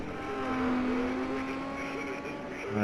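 Race cars competing in the Isle of Man time trial roar past at a distance, with a steady engine drone and a rising whine near the end and no speech.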